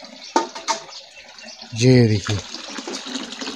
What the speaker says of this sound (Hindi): उसके बाद यहाँ से पानी गिरेगा